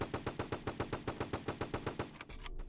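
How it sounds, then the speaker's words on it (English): Rapid automatic fire from an AR rifle in a Roblox game, about fifteen evenly spaced sharp shots in a quick burst that stops abruptly, followed by a brief softer rustle. "I'm gonna shoot you with my AR"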